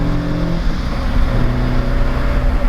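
A Toyota AE86 fitted with a standard differential drones steadily at 4,000 RPM in fourth gear at highway speed, a continuous loud engine hum with road rumble and no speech.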